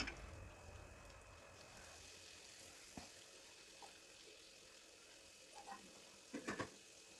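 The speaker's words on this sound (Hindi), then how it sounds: "इसके बाद हमें 1-1 कचौरियाँ डालनी है और इसे धीमी आंच पर ही हमें तलना है।" Kachori frying in oil on low heat, a faint, steady sizzle with a few soft clinks and stirring knocks near the end, no talking.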